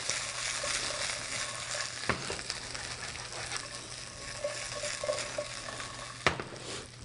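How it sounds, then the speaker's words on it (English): Potatoes browning in a frying pan give a steady sizzle throughout, with a couple of sharp knocks of a utensil against the pan along the way. "over here in the pan beside me, we still got the potatoes that are doing their thing. They're browning up nicely."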